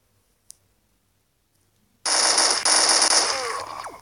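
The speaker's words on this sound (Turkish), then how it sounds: "adam lazerle vuruyor" After near silence broken by one small click, laser gunfire in a video game erupts as a loud, dense, continuous burst of rapid electronic shots that lasts about two seconds.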